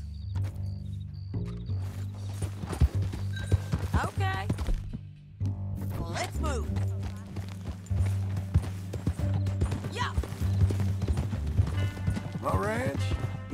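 Horse hooves clip-clopping in the Red Dead Redemption 2 video game, a steady trotting rhythm under a music score, with brief spoken dialogue over it.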